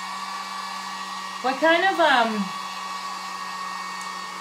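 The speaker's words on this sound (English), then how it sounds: "We're going to hit this with the dryer real quick." A hair dryer blows steadily on a craft project, a constant close whir running the whole time while a voice briefly speaks over it.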